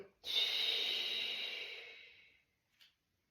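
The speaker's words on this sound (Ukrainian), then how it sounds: "Вдих і видих. І ще раз вдих і видих." Breathing during floor exercise with a towel under the ribs: one long, close, audible exhale lasting about two seconds, then a brief faint puff of breath, otherwise quiet.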